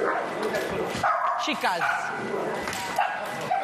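A Malinois bitch barks and yips sharply several times during a training session, close and loud, with a trainer speaking over and between the barks.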